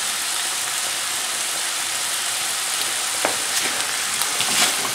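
Sausage meat and aromatics sizzling in a pan with New Mexico red chili powder for empanada filling, a steady loud hiss with a few scraping stirs toward the end.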